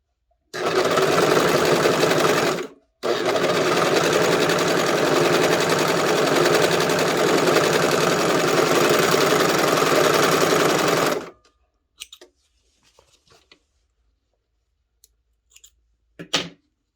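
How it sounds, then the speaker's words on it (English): A serger runs at speed along the center back seam of a skirt, a loud steady mechanical whir with a brief pause, then stops, followed by a few soft clicks and handling sounds. "So there's my serge stitching along my center back seam, and it turns that corner"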